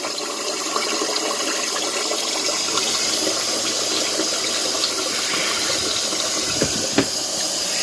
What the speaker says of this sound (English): You will turn your water back on, and it will begin to fill up again